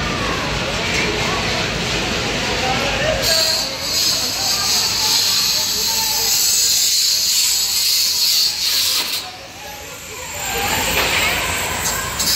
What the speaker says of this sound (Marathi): बघा ही ट्रेन.